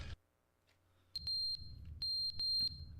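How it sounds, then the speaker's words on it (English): Repeated electronic alarm beeps from a video game, The Stanley Parable, sounding in short clustered pairs and bursts, clear and fairly loud against a quiet low hum. "What's up with the beeping?"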